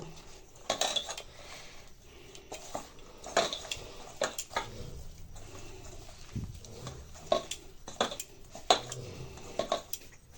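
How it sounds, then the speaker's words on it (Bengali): A spoon mixes bread roll filling ingredients in a bowl, making close, irregular clinks and scrapes against the bowl that come in quick bursts. "আর সবগুলাকে ভালো করে একসঙ্গে মিক্স করে নেব"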